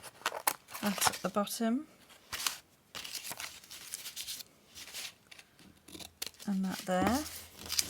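Scissors cut through a gift wrap paper envelope in short, close snips, with soft paper crinkling in between. A person talks quietly over parts of the cutting.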